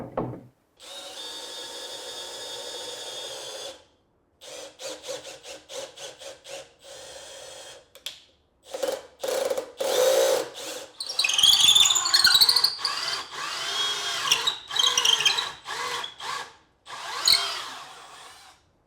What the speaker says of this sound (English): I'm going to go ahead and mark, drill, and tap those hole locations for those bolts.